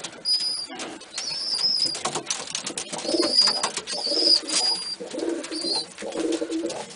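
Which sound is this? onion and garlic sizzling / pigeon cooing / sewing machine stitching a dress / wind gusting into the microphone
pigeon cooing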